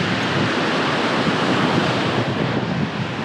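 Ocean waves washing onto a beach in Puerto Rico, a steady, close, broadband roar of surf with wind buffeting the microphone throughout, no voices.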